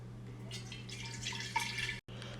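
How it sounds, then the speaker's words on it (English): Water pours steadily into a large glass reagent bottle, a continuous close trickle with small splashy bursts that stops briefly near the end, over a low electrical hum. "now I'm going to add this 825 milliliters or cc's of water to this large reagent bottle"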